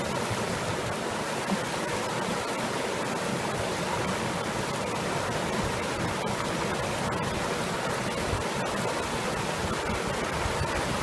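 A mountain stream in the wilderness flows with a steady, continuous rush of water, close to the microphone and fairly loud, with no voices over it.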